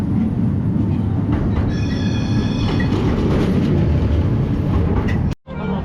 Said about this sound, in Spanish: Justo agarramos los dos trenes pasando al mismo tiempo.